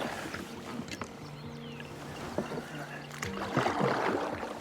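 A small fishing boat drifts through fast river rapids past logjams, water rushing and sloshing against the hull with bumps and knocks, wind buffeting the microphone, and the flow growing louder toward the end.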